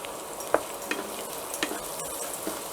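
Onions frying with turmeric powder in a pan for okra curry, soft sizzling broken by several sharp scraping stir strokes and small pops, close and without talk.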